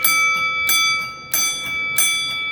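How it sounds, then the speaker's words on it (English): An electric bell from a relay kit rings in four short bursts, each a bright metallic clang that rings on and decays, with brief gaps between, close and fairly loud. "when you want to use the bell, just flip the switch"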